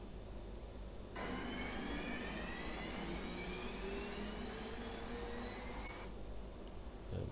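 Simulated jet engine start for a Phenom 100 in a flight simulator: a loud, broad whine cuts in abruptly, rising tones sweep upward through the roar, then it stops just as suddenly, leaving quiet background.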